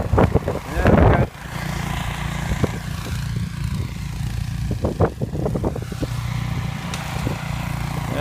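A snow blower engine runs steadily during a snowstorm in Newfoundland, a loud continuous drone with a burst of wind or handling noise near the start and a voice talking over it at times.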